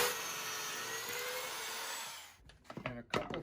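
A power drill drives Kreg pocket screws into the wooden corners of a sandbox, a loud steady whir lasting about two seconds before it stops, followed by a few scattered knocks and clicks.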